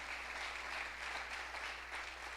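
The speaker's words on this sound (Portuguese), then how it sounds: "Você pode aplaudir o Senhor Jesus." A church congregation applauding during a sermon, a faint, steady wash of many hands clapping at a distance, with a low constant hum beneath it.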